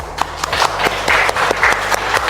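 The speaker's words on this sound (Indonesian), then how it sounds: "Tepuk tangan." Audience clapping at a school talk for SMK Gita Wisata, individual claps in an uneven rhythm over a low steady hum.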